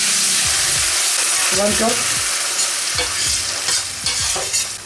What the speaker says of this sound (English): Now the garlic is roasting, and next we'll put tomato puree